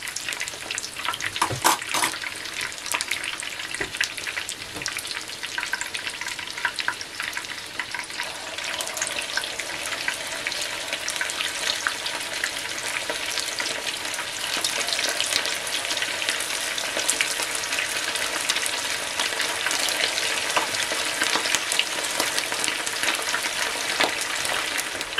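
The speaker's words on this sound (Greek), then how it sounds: "Τους αφήνετε, τηγανίζονται λιγάκι, έτσι, και μετά τους γυρνάτε." Greek meatballs (keftedes) fry in oil in a pan, giving a steady, close crackling sizzle that runs continuously and grows slightly denser partway through, with no talking.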